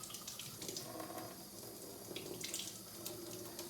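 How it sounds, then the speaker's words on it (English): Tap water runs steadily into a sink as a mouthpiece and fingers are rinsed under it, a close, continuous splashing hiss with uneven spatters and no voices. "Then I'm just going to rinse it off along with my fingers."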